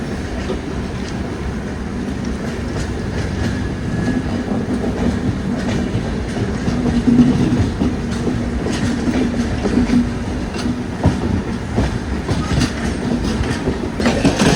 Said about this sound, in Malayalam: ഈ സ്റ്റേഷനിലേക്ക് കയറുന്നത് നമ്മുടെ ഗോരഖ്പൂർ കൊച്ചുവേലി രത്നസാഗർ എക്സ്പ്രസ് ആട്ടോ